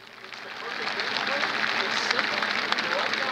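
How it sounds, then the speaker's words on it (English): A football stadium crowd at a Stephen F. Austin versus Eastern Kentucky game applauds standing veterans, a broad wash of clapping and cheering that swells over a few seconds, with an announcer's voice over it. "Let's give them a big round of applause"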